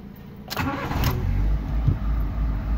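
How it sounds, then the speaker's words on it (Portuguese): A 2011 Fiat Uno Way with a fault that stops it from accelerating has its engine cranked and started, a short starter whir with two sharp clicks giving way to a steady close idle. "E vamos colocar ele aqui para funcionar de novo, para ver se ele acelera."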